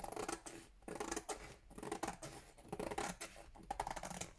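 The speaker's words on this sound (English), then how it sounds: "Okay, so from the front I'm going to trim the side" The side edge of a handmade junk journal cover being trimmed, giving a quiet, steady run of close snipping and papery scratching with no voices.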